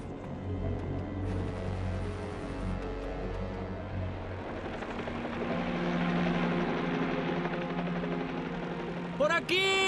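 A helicopter flying over a volcano, its engine and rotor drone rumbling steadily beneath music and voices, growing fuller midway through.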